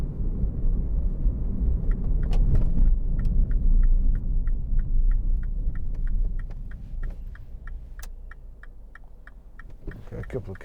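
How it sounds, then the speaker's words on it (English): A couple of cars pass outside a 2009 MINI Clubman Cooper during a test drive, a broad rumble of passing traffic that fades midway, followed by the steady ticking of an indicator inside the cabin. "A couple of cars come in here"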